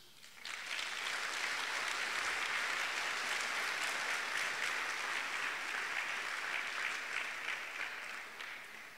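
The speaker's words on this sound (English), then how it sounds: "everyone clap for Jesus" A church congregation claps together in a sustained round of applause that starts abruptly and holds steady, sounding somewhat distant and soft.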